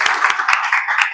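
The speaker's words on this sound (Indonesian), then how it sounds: "Tepuk tangan dulu." A high school class applauding after a group presentation, a short burst of several people clapping together at close range, with a faint voice in the background.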